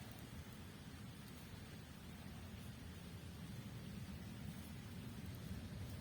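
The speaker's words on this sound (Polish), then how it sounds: "Słuchajcie tych, tych listków, tego szumu." Steady, dense rustling of poplar leaves in the wind, a continuous broadband hiss with no pauses and no voices.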